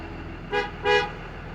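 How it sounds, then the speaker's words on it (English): Two short honks from a bus horn during a pre-trip inspection, the second longer and louder, sounding close over a low engine idle. "We will let them know that we're checking the horn and honk it twice."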